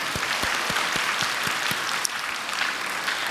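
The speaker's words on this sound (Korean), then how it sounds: "먼저 하나님께 감사의 박수 한번 올렸으면 좋겠습니다." Steady applause from a church congregation at a 70th-anniversary worship service, dense continuous clapping at moderate volume with a few sharper individual claps standing out.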